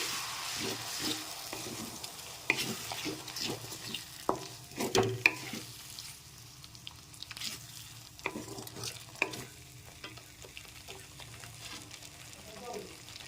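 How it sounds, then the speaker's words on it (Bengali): Spice paste being stirred with a little water in a pan for a vegetarian aloo dum, a steady low sizzle broken by repeated scraping and clinking strokes of the spoon, fairly close and moderately loud, with no talking. "এবার খুব ভালো করে নেড়েচেড়ে একটু মিশিয়ে নিচ্ছি"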